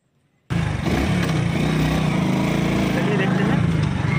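Hero Splendor motorcycle engine switched on after a moment of silence, starting abruptly and then settling into a loud, steady close-up idle with a rapid low putter.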